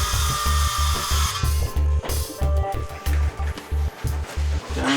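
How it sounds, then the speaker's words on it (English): Power saw cutting a kitchen countertop from the underside, a loud rhythmic buzzing in short repeated bursts of about half a second, each followed by a brief pause, continuing throughout. "I'm going to cut on the bottom side of the counter."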